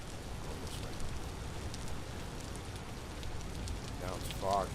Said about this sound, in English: Let's see if we can outrun this rain.